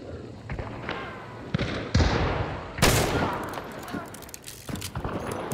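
Video game gunfire cracks out in several sharp, loud bursts, some distant and some close, spread unevenly across a noisy firefight with a voice speaking in between.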